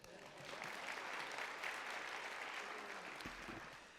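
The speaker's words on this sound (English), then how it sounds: "You all can applaud him for that." A church congregation applauds steadily for several seconds, a broad, even wash of clapping heard from within the hall that tapers toward the end.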